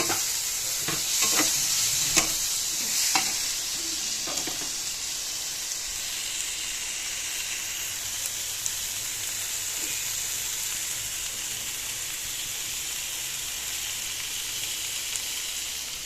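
Vegetable curry with onion, tomato, potato and spices frying in a pan, a steady close sizzle running throughout, with a few scraping stirs of a spoon near the start.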